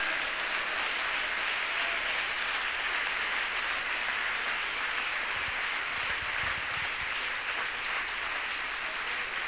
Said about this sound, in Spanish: Aplauso al Señor Jesús.